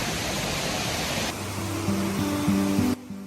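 Waterfall at the Sungai Pandan campsite in Kuantan, Pahang, a steady broadband rush of falling water that fills the clip, with a faint tonal hum in the lower range near the end before the roar drops away.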